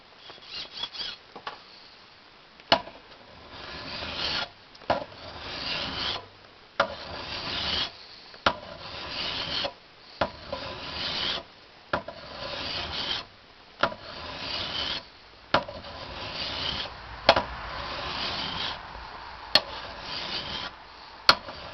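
Metal file stroked over a metal surface, a dry rasping scrape repeated in steady, evenly spaced strokes about every second and a half, each ending in a short pause, close and clear.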